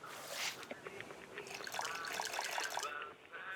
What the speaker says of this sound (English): now I can finally go and refill the dang water bottle